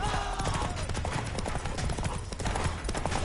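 Roach the horse galloping in The Witcher 3, rapid rhythmic hoofbeats clip-clopping close and steady under a game music bed, with brief voice sounds.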